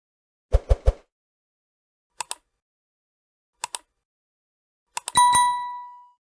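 Notification bell sound effect: a quick triple tap, then two pairs of bright metallic dings spaced apart, ending in a cluster of clicks and a long ringing bell tone that fades out.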